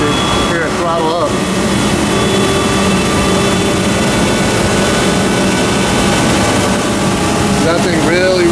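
A 5HP Oneida Dust Gorilla Pro dust collector in a small shop gives a loud, steady, close roar of airflow and motor hum that rises in pitch as it throttles up, with someone talking over it.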